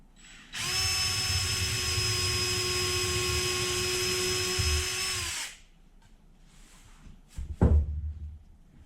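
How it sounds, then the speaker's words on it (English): A power drill bores holes in sappy wooden balustrade parts, a steady loud whine running about five seconds before cutting off, followed by a short clatter. "Now it's just a question of drilling holes in all of these."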